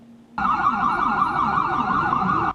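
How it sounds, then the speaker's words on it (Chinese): An ambulance siren wails loudly and steadily as it rushes to a plane crash site in Mexico, its rising and falling tone repeating rapidly, close by, then cuts off abruptly. "救护车驶真紧过去，赶到飞行机失事的现场"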